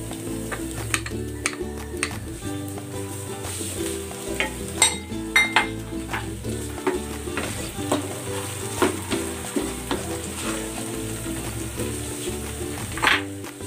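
Pork belly sizzles and fries steadily in a pan with oyster sauce and tomato paste added, a continuous crackling hiss with occasional stirring and utensil knocks, close and alone throughout.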